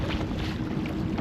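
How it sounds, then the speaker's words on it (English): Strong wind roars steadily around a small motorboat's canopy near Narrowneck, a continuous broadband rushing with buffeting microphone gusts and no voices, loud and close for the whole moment. "You can hear the wind like howling through the canopy."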